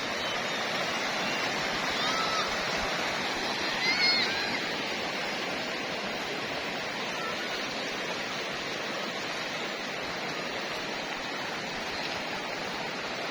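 Sungai Benga river in Tangse, Pidie, Aceh rushes steadily in a broad, continuous wash of flowing water, moderately loud and unbroken, with a faint voice briefly audible beneath it.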